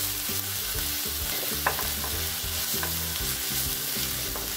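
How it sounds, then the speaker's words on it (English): Ginger chili paste fries with cumin seeds in very hot oil, a loud, dense sizzle with rapid crackling and spattering, stirred close by, with no voices. "we are going to add the ginger chili paste and just cook it for 30 seconds"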